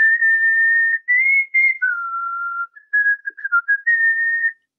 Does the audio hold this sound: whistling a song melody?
yes